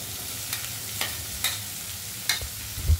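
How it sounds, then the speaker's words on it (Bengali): Chopped onion, ginger, garlic and green chilli fry in oil for a moong dal with fish head, a low sizzle broken by four or five sharp spatula stirs at roughly even intervals. "আদা রসুনের পর চলে যাচ্ছে পেঁয়াজ কুচি, এগুলো ভালো করে ভেজে নেবে"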